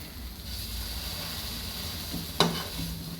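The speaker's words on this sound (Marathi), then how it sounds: "आपण असं भाजून घेऊ आपली मसाला पाव चटपटीत चमचमीत तयार आहे" Masala pav toasting in a pan gives a soft, steady sizzle with quiet stirring, then a single sharp clack of the utensil near the end.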